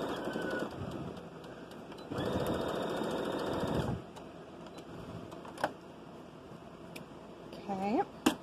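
Sewing machine joining a dress bodice to its lining, running in two loud bursts near the start with quieter handling sounds and clicks between, and brief talk near the end.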